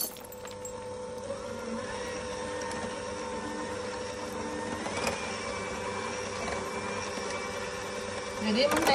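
An electric mixer beats butter for a rolled layer cake, a steady whirring motor hum that runs continuously at moderate loudness, with a slight surge near the end.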